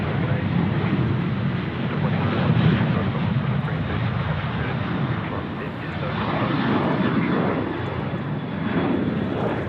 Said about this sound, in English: We've got our Qantas 737 still rolling here in front of us